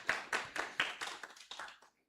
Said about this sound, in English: clap for the business people here